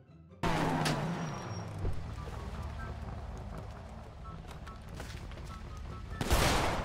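Rapid bursts of gunfire in a GTA RP gang fight crackle over a running car engine, ending in a louder volley, with a voice talking over the action.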